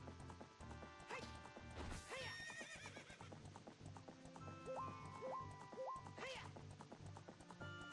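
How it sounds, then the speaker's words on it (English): A horse whinnies loudly in a Legend of Zelda game, with clip-clop hooves, thumps and bright game chimes layered through the scene. "And here you just want to hop back on your horse."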